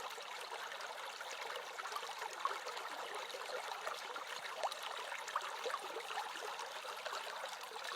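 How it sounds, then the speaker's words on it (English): A small creek flows steadily with a soft, continuous trickle and babble of water, gentle and even throughout, with no voices. "And we're just going to cross the waters here. This beautiful little creek."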